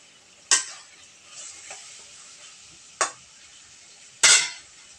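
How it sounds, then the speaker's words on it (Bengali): Potatoes and spices are stirred in a pan with a metal utensil, giving three or four sharp scraping clinks spaced a second or more apart over a faint, quiet sizzle. "ভালোভাবে মশলার সঙ্গে আলু মিশানোর চেষ্টা করব।"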